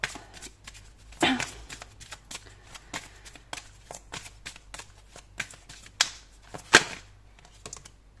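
A deck of tarot cards is shuffled close up, with a steady patter of quick riffling flicks, a louder burst near the start and another toward the end, with faint talk in the background.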